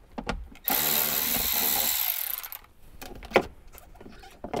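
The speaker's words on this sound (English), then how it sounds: "now I'm just going to remove these four screws" A power screwdriver backs out the four speaker screws in a 2018+ Jeep JL Wrangler during a Kicker speaker swap: a steady, close whirring run of nearly two seconds, then quieter handling clicks and rattles.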